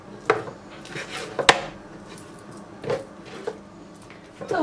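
A knife chopping chicken on a cutting board in a home kitchen, several sparse, close knocks and squishy cuts spaced irregularly, with quiet pauses between strokes.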